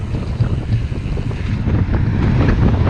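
Strong coastal wind buffets the microphone in a steady, roaring rush with gusty swells near the shore by St Michael's Mount, with no voices.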